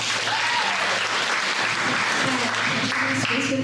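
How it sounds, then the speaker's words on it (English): Audience applause from a live Comic-Con crowd at San Diego, a dense steady wash of clapping that holds throughout without a break, loud and close. "Clap if you like horror movies."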